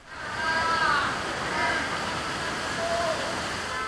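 Floodwater rushes through Dhaka's streets after hours of heavy rain, a continuous loud wash of flowing water with faint tonal sounds drifting over it.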